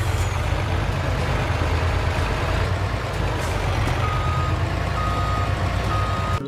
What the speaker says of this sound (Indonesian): Keluarlah truk molen.